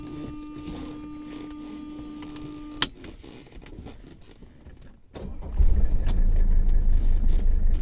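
A 1980s Mercedes car starts up, with keys jingling and a brief electric whine before a sharp clunk, then the engine catches and settles into a loud, steady running rumble close by.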